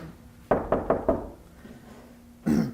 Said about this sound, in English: I'm knocking on your door.